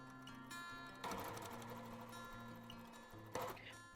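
A sewing machine stitches quilt rows with a quiet, steady mechanical whir and fine ticking, recorded close, with brief louder bursts of fabric handling.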